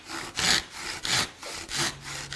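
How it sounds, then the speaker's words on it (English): Hand saw flush-cutting a clamped wooden plank while building a small boat, about five steady back-and-forth strokes, close and distinct. "And then just take a simple hand saw"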